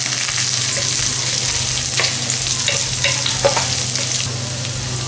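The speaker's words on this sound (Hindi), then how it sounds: "अदरक बारीक चॉप किया हुआ ये डाल देंगे, हल्का सा सौटे कर लेंगे" Finely chopped ginger sautéing in a pan over medium flame, sizzling and crackling loudly and continuously up close, with occasional stirring scrapes and no talk.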